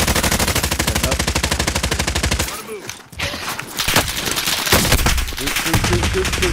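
Video game gunfire opens with a loud, rapid automatic burst of evenly spaced shots, breaks off briefly, then turns into scattered, denser shooting and bursts, close and dominant throughout.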